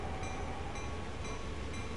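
Steady locomotive rumble from a heavy train running at speed in Train Sim World, a continuous low drone with faint periodic clicks, no voices.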